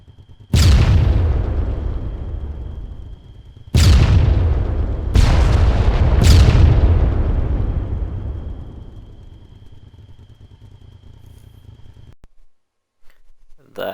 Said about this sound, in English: There'll be secondary explosions coming here in a second.